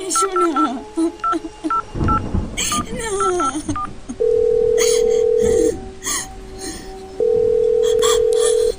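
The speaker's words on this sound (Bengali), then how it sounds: "তাড়াতাড়ি মোবাইলটা নিয়ে ডক্টরকে ফোন করলো" Mobile phone dialing a call to a doctor: a quick run of short keypad beeps, followed by two long steady ringback tones, with background voices and movement underneath.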